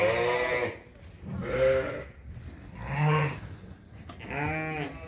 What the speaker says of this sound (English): There's a lamb back there.